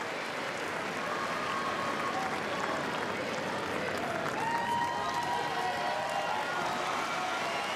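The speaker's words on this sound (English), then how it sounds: "There's a standing ovation for Federer." A tennis crowd at an Australian Open semifinal gives a standing ovation, with dense, steady applause filling the whole stretch at an even, loud level.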